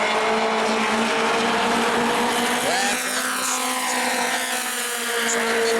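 Race cars with 4-cylinder motors speed around the New Smyrna track during a heat race. A loud, steady engine roar drones throughout, with a passing pitch sweep partway through and an announcer talking over it.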